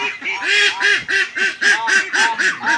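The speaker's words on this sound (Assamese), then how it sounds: "এইখিনি মোৰ গোটেই হাঁহ কুকুৰাখিনি" Young ducks about 43 days old quack over and over in a steady, closely spaced run of loud nasal calls, around nine in under three seconds, with no talking.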